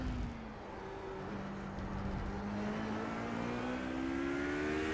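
A race car engine climbs a track hill, pulling hard with a steady rising drone as the throttle is held and modulated, loud and close throughout, no talk.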